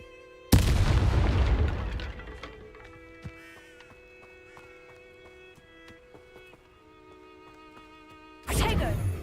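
Hogwarts Legacy's Incendio fire spell erupts in a sudden loud booming blast that rings and decays over several seconds, then a second burst flares near the end.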